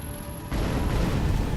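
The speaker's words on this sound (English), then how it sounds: "Oh, explosion everywhere." In the game F.E.A.R. 2, a sudden loud rumble cuts in halfway through and holds as a dense, broad wash of noise, like an explosion going off close by.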